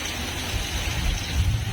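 A dense, steady hiss of heavy rain pouring down, loud and continuous with no pauses.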